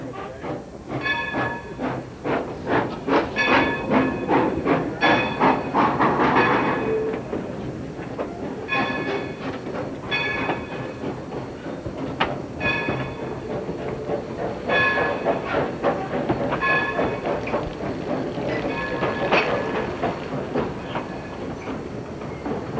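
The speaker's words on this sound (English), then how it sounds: "Powering today's train is Western Coal and Coke Engine No. 1." Western Coal and Coke Engine No. 1, a 1913 Montreal Locomotive Company steam locomotive, pulls a train with rhythmic clickety-clack of wheels over rail joints and hissing, steady and fairly close for over twenty seconds.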